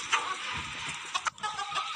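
Aseel and desi chickens cluck and chatter close by, a busy flock with a few sharper squawks standing out over a constant background of murmuring calls.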